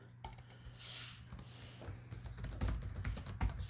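Quick, faint clicking of typing on a laptop keyboard in a quiet room, irregular bursts of key taps running steadily throughout.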